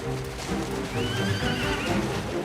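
War horses of a mounted German reserve company whinny and neigh loudly over a steady clip-clop of hooves and dense low rumble, a sustained busy outdoor mix with no speech.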